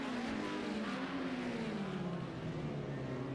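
A race car engine in a wet-weather racing video game at Hockenheim drones steadily and loudly, its pitch sliding downward under heavy engine braking, with continuous tire and road noise throughout.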